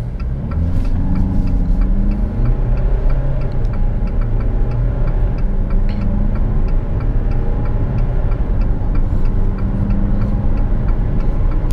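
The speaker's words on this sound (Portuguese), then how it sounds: "Antes da gente sair, vou pisar aqui no freio com o pé esquerdo, acelerador com o pé direito." A 2017 Jeep Compass Longitude diesel 4x4 launching from a brake-torque hold, its engine a loud, steady low rumble that holds and builds throughout as it accelerates, with no talking.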